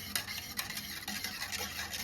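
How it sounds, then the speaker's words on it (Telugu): A masher stirs rice-washing water in a pot, with repeated wet swishing and light scraping strokes at an irregular rhythm, close and fairly quiet, no voices. "ఈ వాటర్ బాగా మిక్స్ చేసేసుకోవాలన్నమాట."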